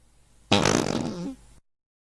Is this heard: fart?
yes